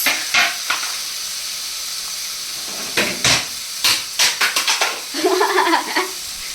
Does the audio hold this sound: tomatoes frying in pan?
yes